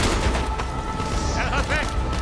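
Low, rumbling mortar booms roll through a Call of Duty: Black Ops battle, layered with scattered gunfire and shouted voices in a loud, chaotic war scene.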